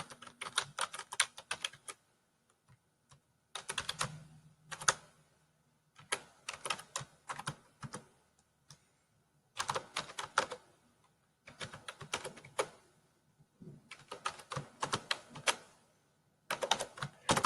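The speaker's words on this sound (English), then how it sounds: "now that I've typed it all in, you'll notice as I pressed enter for each new line" Rapid bursts of typing on a computer keyboard, close and fairly quiet, come in clusters of quick keystrokes separated by short pauses, with no voices.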